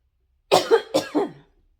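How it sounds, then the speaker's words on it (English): Two quick, harsh coughs sound close and loud, one right after the other, followed by silence. "I'm coughing up a storm"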